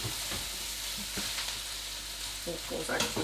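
Cauliflower and broccoli sizzle loudly in a frying pan while being stirred, with a continuous crackling hiss and scraping pushes of the spoon, the stirring growing busier toward the end.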